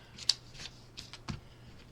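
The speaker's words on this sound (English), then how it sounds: "I'm going to use my scissors" A few quick, crisp snips of scissors cutting fabric, spaced irregularly, close by with no talking.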